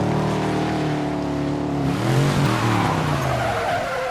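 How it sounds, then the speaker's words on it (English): A car drifts around an abandoned construction area, its tires skidding and squealing in a loud, continuous screech over a revving engine. "takes his car to an abandoned construction area and starts drifting all over the place"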